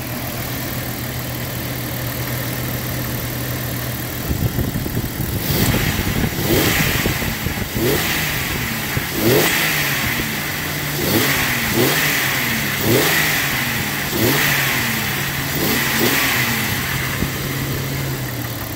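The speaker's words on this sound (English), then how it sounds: "You can hear the engine." A 1996 Jeep Cherokee XJ engine idles with a low steady rumble, then revs repeatedly in a series of short throttle bursts before settling back to idle.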